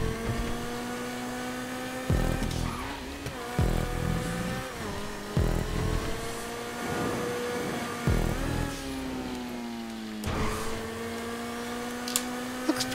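Sabre Turbo car engine in GTA 5 revving repeatedly, rising and falling in pitch with sharp throttle blips and a steady idle between, loud and close.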